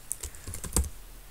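Several quick keystrokes on a computer keyboard, close and crisp, tapped in an uneven rhythm with no voice over them.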